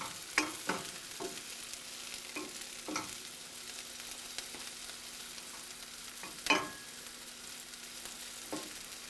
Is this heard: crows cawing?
no